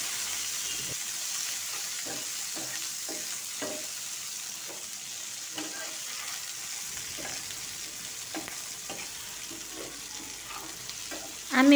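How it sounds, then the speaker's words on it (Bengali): Green chilies and garlic frying with beans in a pan, a soft steady sizzle broken by repeated scraping stirs, close and fairly quiet with no voices. "এই পর্যায়ে কিছু কাঁচা ঝাল অ্যাড করে দিয়েছি, খুব সুন্দরভাবে টেলে নিচ্ছি।"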